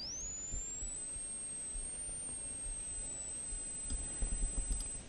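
A steady high-pitched sine tone from a tone generator sits near 8 kHz, gliding upward at the start and then holding level and loud throughout, with faint low clicks and rumble beneath it.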